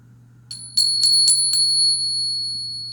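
A bell struck five times in quick, even succession, each strike ringing bright and clear, with the final tone sustaining and slowly fading over a low steady background hum.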